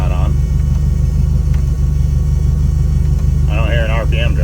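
A 1987 Toyota van idles low and rough while the engine is cold, a steady, throbbing rumble up close, with someone talking over it near the end.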